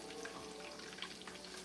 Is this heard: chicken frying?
yes